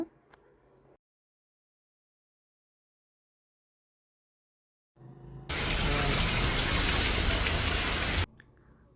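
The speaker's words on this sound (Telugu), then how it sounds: "చూడండి వర్షం అయితే ఎలా పడుతుందో" After near silence, a loud, dense rush of heavy rain starts suddenly, holds steady for a few seconds, then cuts off.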